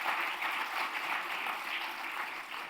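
Audience applause at a Parmarth Seva Samiti event honouring Rajshree Birla, a dense, steady wash of many hands clapping at moderate distance, sustained throughout without speech.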